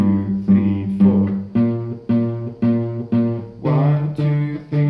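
A guitar plays a bass line, a series of plucked, sustained notes in a steady repeating rhythm, close and clear with no talking.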